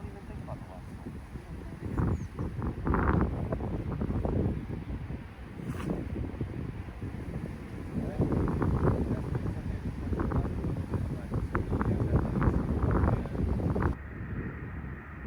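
Outdoor wind blusters steadily against the microphone beside bushes on a disc golf course, a low rumbling roar that swells and eases over time, with no talk.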